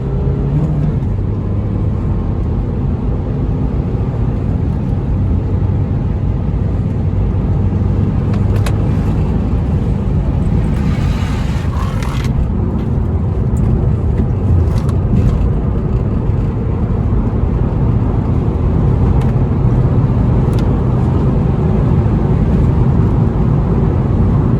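A stage 1 tuned Peugeot RCZ drives and accelerates with a steady, loud engine drone and road rumble heard from inside the cabin. The sound stays constant throughout, with a brief surge of higher noise partway through.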